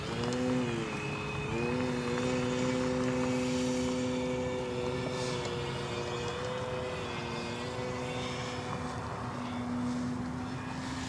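Steady buzzing drone of an FMS Pitts 1400mm RC propeller plane holding a hover, loud and close, its pitch wavering slightly then settling.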